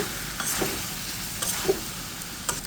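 A mustard greens and radish leaf dish with crushed lentil nuggets is stirred in a sizzling pan, a steady low frying hiss broken by a few distinct scrapes and clinks of the spoon against the pan.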